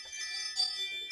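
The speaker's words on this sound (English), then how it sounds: "they keep setting off my Ring doorbell" A Ring doorbell chime notification plays from a phone as a faint, brief run of high tinkling tones over quiet room noise.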